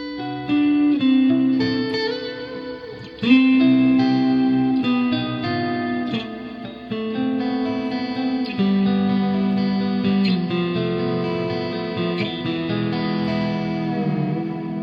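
An electric guitar with single-coil pickups plays through a tube amplifier with delay and reverb, sustained chords and melodic notes ringing out with echoing tails. It plays alone, steady and fairly loud, with no talking.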